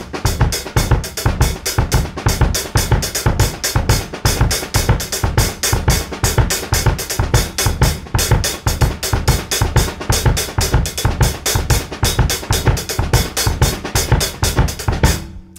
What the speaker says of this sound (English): ghost notes on the snare, the little itty bitty taps just to fill it up a little bit